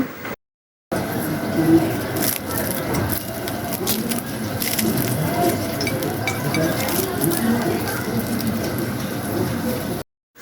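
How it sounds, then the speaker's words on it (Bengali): Crispy fried chicken patties give off a dense, continuous crackling crunch, close and fairly loud throughout, with no talking. "তো আমি একটু আওয়াজটা আপনাদের শোনাচ্ছি মানে খুব মুচমুচে হয়েছে"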